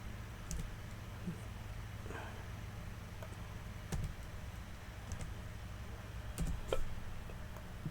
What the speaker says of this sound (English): My keyboard.